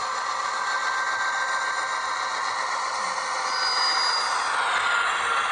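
Steady whine and hum of an Auscision Models NR class Pacific National NR66 model freight locomotive running slowly with DCC sound, a continuous close engine drone with a faint scraping of wheels on track and no talk.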